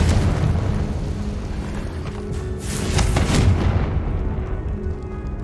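A Confringo blasting spell explodes in the Hogwarts Legacy video game, a heavy, rumbling boom that swells midway and lingers as a loud, dense roar before easing off.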